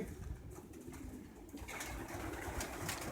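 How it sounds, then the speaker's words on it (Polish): Young pigeons coo inside a loft against a constant, hissy background, with faint wing flutters and no speech. "Tutaj gołąbki."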